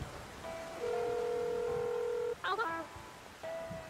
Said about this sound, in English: Make a phone call to Ellie.